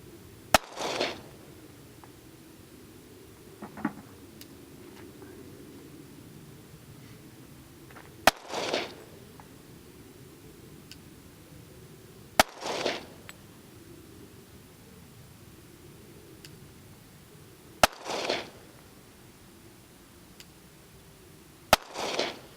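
Handloaded ammunition is fired at an outdoor range, giving about five sharp, fairly distant gunshots spaced several seconds apart over a quiet hiss of background noise.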